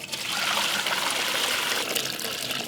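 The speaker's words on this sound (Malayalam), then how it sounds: "ഇനി നമ്മുടെ ചിക്കൻ വേവിച്ച വെള്ളം" Chicken cooking broth poured steadily into a pot while making Palestinian maqlooba, a continuous close trickling splash of liquid with no talk.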